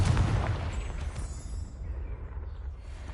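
Confringo fire-blast spell explosion in Hogwarts Legacy: a deep, booming blast already underway, rolling and rumbling steadily with a low, heavy roar that slowly settles.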